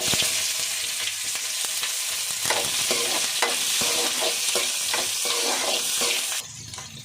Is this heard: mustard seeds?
yes